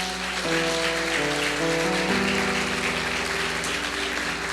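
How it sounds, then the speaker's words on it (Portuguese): A church congregation applauds during a worship service, a dense, steady wash of clapping that carries loud and continuous throughout, with sustained music tones underneath. "Dá uma salva de palmas a Jesus."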